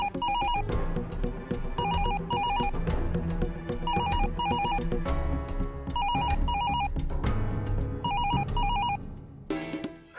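In a Marathi TV serial, an electronic telephone ringtone trills in paired bursts again and again over a music bed, then stops near the end.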